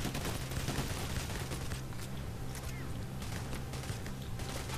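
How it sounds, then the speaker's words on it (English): Dense bursts of automatic gunfire in a PayDay The Heist shootout, continuous rattling shots throughout under faint game noise. "Where am I getting shot from?"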